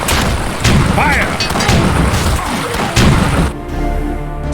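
Cannon fire and battlefield impacts in the strategy game Battle Realms, a dense run of loud booms and crashes over about four seconds with unit voice lines mixed in, ending abruptly.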